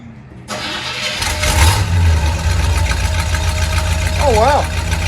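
A 1969 Chevy C10 with true dual exhaust and stock mufflers cranks and fires up within the first second, then settles into a loud, steady, rumbling idle close by.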